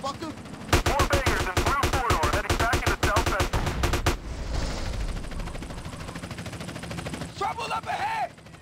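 Rapid gunfire from a shootout in Grand Theft Auto: San Andreas: a dense burst of loud, rhythmic shots in the first half, then a quieter rumbling stretch with shouting voices near the end.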